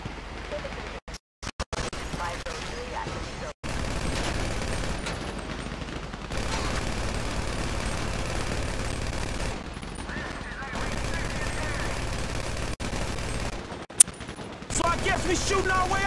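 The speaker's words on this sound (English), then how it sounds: "We're shooting our way out of here!" Gunfire in the GTA 5 Paleto Score bank heist, rapid automatic bursts and scattered shots crackling over a dense, noisy game background.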